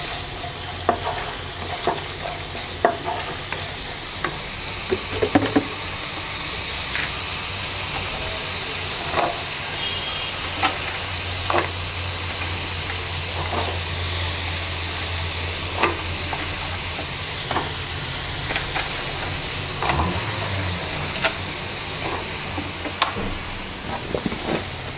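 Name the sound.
vegetables frying with dried fish (shutki) in pan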